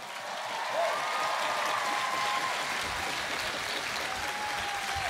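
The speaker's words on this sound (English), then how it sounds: "Let's give her a round of applause." Sustained audience applause at an outdoor rally for Black Lives in Bozeman, a dense steady wash of clapping lasting the whole stretch with a faint tone drifting through.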